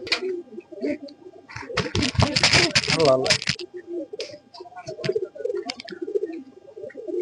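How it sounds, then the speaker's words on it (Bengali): Soft, low pigeon coos murmur close by, mixed with a burst of fluttering and people talking nearby. "এগুলা কিন্তু আমার ঘরের ঐতিহাসিক কবুতর"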